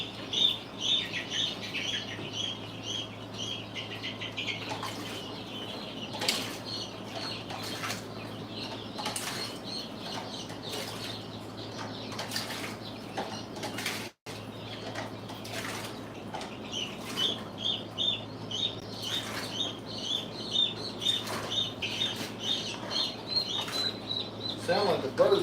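Bird flapping its wings, repeated soft fluttering bursts with light chirps over a steady low hum, moderately close, running throughout with a brief dropout midway.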